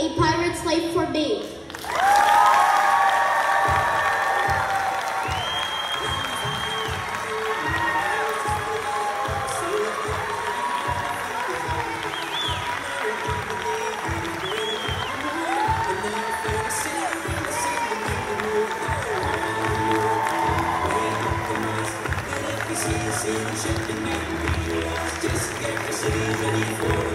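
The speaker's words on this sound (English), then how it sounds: "Please give us a round of applause" An audience applauds and cheers at a second-grade pirate-themed children's chorus concert, with steady clapping and shouts running throughout and music and voices mixed in.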